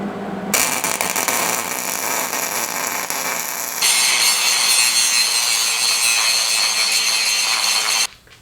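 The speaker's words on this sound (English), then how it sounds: "After grinding these spot welds out, I can grind a lot further in here than I thought I could." An angle grinder whines steadily as it grinds out spot welds on steel swage block stand parts, a loud continuous abrasive screech whose pitch jumps higher partway through, alone without talk.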